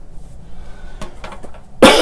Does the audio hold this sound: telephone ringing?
no